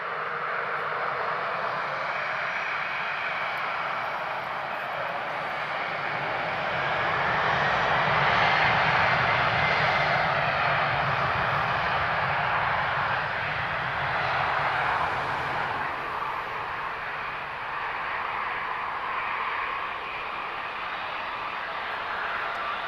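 Steady jet engine roar of airliners at Lisbon Airport, a continuous mid-distance drone that swells in the middle and stays loud throughout, with no talking.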